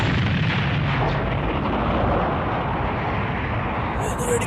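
Cartoon explosions in an animated Dragon Ball Z special, likened to fireworks, rumble as a dense, loud continuous barrage of booms and blasts following a countdown.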